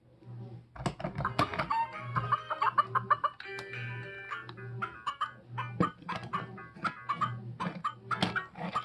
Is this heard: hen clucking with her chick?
yes